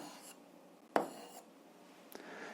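Pen on paper while writing out a system of equations for a grade 7 algebra exercise, heard as a few faint, brief scratches with one sharper stroke near the middle, quiet and close, with no talking.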